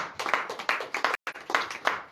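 Congregation at a morning prayer service in Comè, Benin, clapping together in acclaim to Jesus: a dense, lively run of hand claps with a brief pause midway before the clapping resumes.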